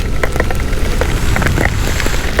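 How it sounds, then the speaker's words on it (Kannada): Heavy monsoon rain pours steadily near waterfalls in the Agumbe area, a dense, loud roar of falling water with scattered louder drops spattering on surfaces, continuous throughout with no voices. "ಹೆವಿ ಮಳೆ."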